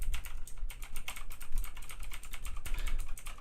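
An Eagle X 7300 LED-backlit mechanical gaming keyboard is typed on up close: a fast, continuous run of loud clacky keystrokes.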